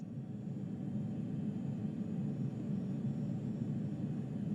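A simulated aircraft engine in Microsoft Flight Simulator 2020 holds at high idle, a steady low droning rumble with a faint whine above it, constant and even with no voices.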